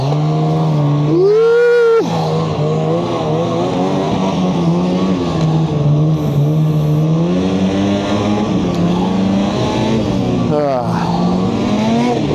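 A loud snowmobile engine drones steadily while riding trails in bitter cold, its pitch rising and falling with the throttle, and a rider whoops and talks over it.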